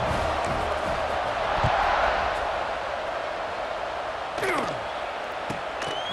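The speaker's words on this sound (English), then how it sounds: "this crowd is buzzing after that last score" A stadium crowd in EA Sports College Football 26 buzzes with a steady, broad roar that stays even throughout, with a brief thud partway through.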